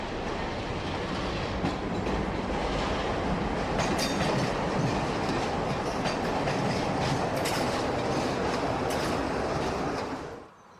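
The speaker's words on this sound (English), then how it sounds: "A rare visitor to a London terminus, Fragonset 33 103 Swordfish is seen with an inspection saloon" Fragonset Class 33 diesel locomotive 33103 hauling an inspection saloon through a London terminus, a steady loud roar of engine and rolling wheels with rail clatter throughout, cutting off abruptly near the end.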